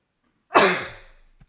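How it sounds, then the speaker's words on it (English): A single loud, close sneeze bursts out and trails off, followed by a small click, with no talking around it. "I'm going to sneeze 1 second."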